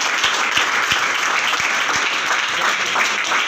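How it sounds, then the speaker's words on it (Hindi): Audience clapping for a student at a police constable training institute, a dense, steady round of applause with a few sharp individual claps standing out near the front. "चलिए इस बच्ची के लिए एक जोरदार हाथ ताली"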